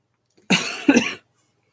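Two quick, close coughs in succession, loud and abrupt, with silence before and after.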